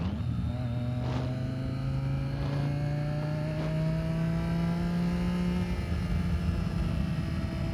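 A 2015 Triumph Daytona 675R motorcycle fitted with an Arrow exhaust idles and then gets throttle, its steady engine tone climbing gradually over several seconds before easing back, close by with a constant broadband roar.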